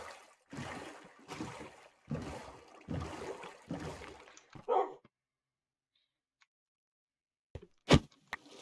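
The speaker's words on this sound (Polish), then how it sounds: "Dobra, piesek." A dog in the Minecraft survival game barks in a few short yips after a stretch of louder sound, the barks brief, sharp and spaced out against a mostly quiet background.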